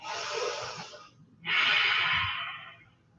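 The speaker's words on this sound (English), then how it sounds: "Take 2 full deep breaths here." Two long, deep breaths during a yoga flow, a slow airy inhale then a fuller exhale after a short pause, close and alone.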